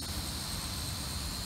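Small SG106 quadcopter drone with optical-flow positioning hovering outdoors, a steady close whirring buzz of its rotors running continuously and fairly loud, with no other sounds over it.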